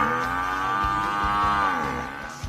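A carabao, or water buffalo, lets out one long, loud, sustained moo that sits close and carries across the whole moment, then dips and trails off at the end.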